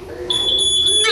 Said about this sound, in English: You test smoke alarms by pushing the test button.